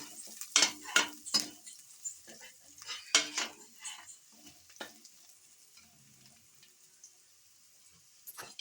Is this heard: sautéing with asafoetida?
yes